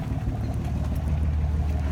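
A John Deere 544J wheel loader's 6068H diesel engine runs at a steady idle, a continuous low rumble with a droning harmonic hum, heard close up and alone without any talk.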